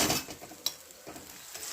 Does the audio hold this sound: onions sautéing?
yes